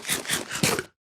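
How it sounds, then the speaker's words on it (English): Crunchy munching close to the microphone, a few quick loud chewing crunches in succession during a PC gaming chat, then abrupt silence. "Wow, munching is loud."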